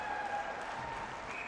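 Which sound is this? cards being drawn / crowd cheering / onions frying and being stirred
crowd cheering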